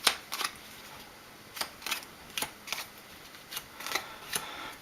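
Game cards for a tabletop war game are shuffled on a table nearby in a series of sharp, crisp riffling bursts at irregular intervals, with quiet gaps between them.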